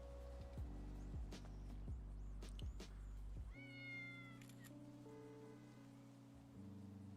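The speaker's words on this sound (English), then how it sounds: "This is a little kitty cat." A cat in the GTA 5 role-play game meows repeatedly in short, fairly close cries over steady background tones.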